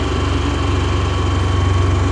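A PK8000i generator engine runs steadily at close range, giving a loud even hum with a regular low pulsing throb and no talk over it.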